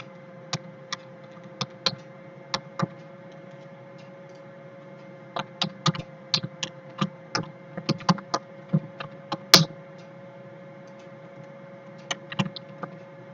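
Keys clatter on a computer keyboard in quick bursts of sharp, close clicks over a steady low hum while a location is entered into a C# database application, with brief pauses between flurries.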